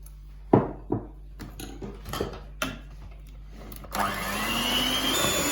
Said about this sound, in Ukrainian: Вершки вливаємо у чашу, додаємо сюди цукрову пудру і збиваємо до пишної маси.